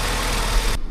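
Mercedes W163 engine with 722.6 automatic transmission idling while hot at about 80 degrees, a steady close broadband running drone that holds evenly and then cuts off abruptly near the end.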